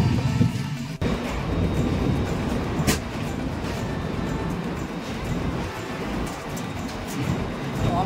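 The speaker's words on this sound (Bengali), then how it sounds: "আমাদের ট্রেন এখন ক্রস করছে মালভিয়া ব্রিজ।" A train crosses the Malviya bridge over the Ganges in Bihar, producing a loud, steady rumble that fills the whole stretch with a brief sharper jolt early on and no talking.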